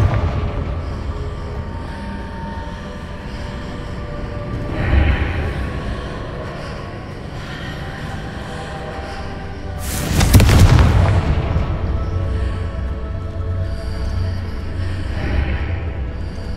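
Confringo blasting-spell explosions boom in Hogwarts Legacy, with a softer blast near the start and a loud, sharp burst about two-thirds through over a low rumbling game ambience.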